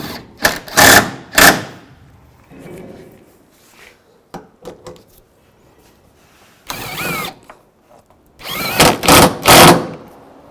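Headlight mounting bolts on a 2007-13 Chevy Avalanche are snugged with a power tool in several short whirring bursts, two early, one in the middle and a final cluster, separated by quiet handling noises.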